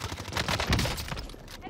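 Gunfire in a Call of Duty Warzone match, a rapid burst of shots in quick succession, moderately loud and slightly distant, tapering off toward the end.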